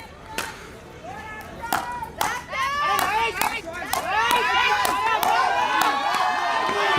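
Crowd at a badminton match: sharp shuttle strikes ring out as excited voices swell into loud, sustained cheering and shouting that fills the hall, with a commentator talking over it.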